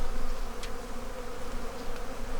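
Honey bees on a brood frame during a fall hive inspection in a bee barn fill the air with a dense, continuous buzz, close and steady, with no voices.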